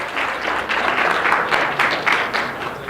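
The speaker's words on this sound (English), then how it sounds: "Should we give the peer instructors a round of applause?" A roomful of students in a university strategies class applauds peer instructors, steady dense clapping throughout at close range, no voices over it.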